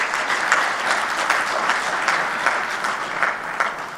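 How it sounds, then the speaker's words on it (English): Audience applause at the launch of the African Peer Review Mechanism in Zimbabwe, a steady, dense clapping from a large crowd that stays loud and even from start to finish. "Let's give him a big round of applause."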